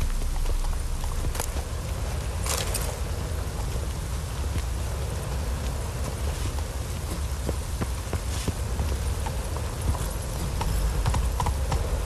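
Roach, a horse in The Witcher 3, gallops with steady clip-clop hoofbeats through heavy rain, the downpour hissing constantly around the hooves from start to finish.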